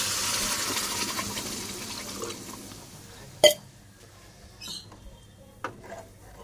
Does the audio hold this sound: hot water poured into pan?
yes